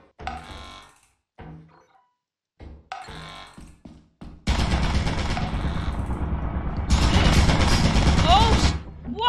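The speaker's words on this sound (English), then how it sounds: "that's a turret right in front of you" Rapid mechanical gunfire from an automated turret in the video game Overwatch, loud and sustained in two long bursts after short bits of speech and game sounds.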